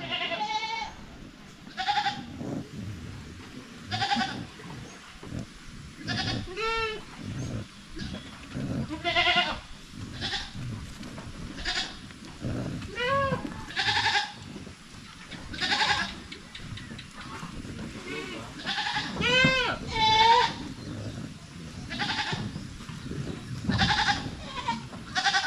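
Goats bleat repeatedly at a farm hut, their wavering cries coming one after another, some near and loud, others fainter, with no talk over them.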